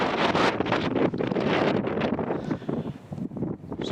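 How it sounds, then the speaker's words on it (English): Gusty wind buffets the microphone outdoors on an open hillside by a monument under a dark approaching cloud, a loud rushing roar that surges and eases across a few seconds with no speech. "It is a bit blowy now."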